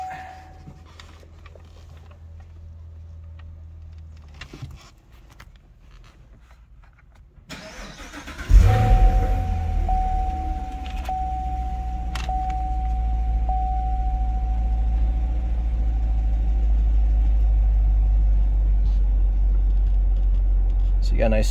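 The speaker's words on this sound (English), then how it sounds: "Mike, we'll do the engine startup." A 2018 Chevrolet Camaro Hot Wheels edition cranks briefly and fires up with a loud burst, then settles into a steady, deep idle rumble close by; quiet murmurs and interior rustling come before the start.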